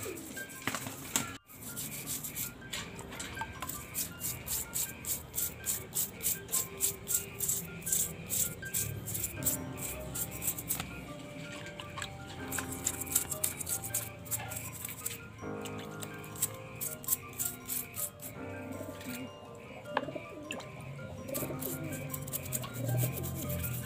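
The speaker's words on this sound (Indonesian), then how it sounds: "Pakai ini, pakai sikat gigi." Toothbrush scrubbing the trunk of a bonsai tree, a close rhythmic rasping of bristles in quick repeated strokes, with faint background sounds and no talking.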